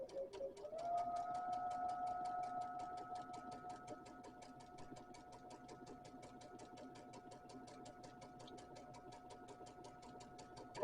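A sewing machine stitches a quilt block with a steady, fast mechanical whir and even rapid ticking of the needle throughout, close and fairly quiet.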